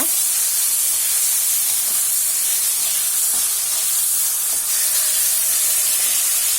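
Ground ginger, garlic and green chilli paste sautés in a pan with a loud, continuous steamy hiss, close and unbroken, faint stirring scrapes underneath and no talk.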